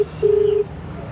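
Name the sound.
telephone dialing tones on speakerphone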